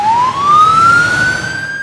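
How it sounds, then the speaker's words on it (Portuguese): A loud, close ambulance siren sweeps upward in a single rising wail that levels off and holds steady for about two seconds. "como a sirene de uma ambulância, por exemplo"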